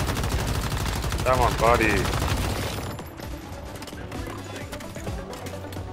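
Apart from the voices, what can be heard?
gunfire from shooting enemies in the video game Once Human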